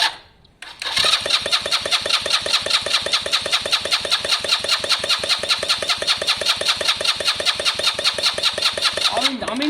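A Lexmoto Valiant motorcycle engine catches after a brief crank and settles into a steady, loud, close-up rhythmic chugging idle that runs evenly until it cuts off at the end.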